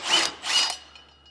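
Two short ratcheting bursts from a wrench loosening 15mm bolts on the front anti-sway bar hangers of a 2024 Ford E-Series cutaway, followed by faint metallic clicks; close and fairly loud, with no speech.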